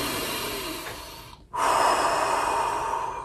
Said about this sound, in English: 5 deep breaths to the belly.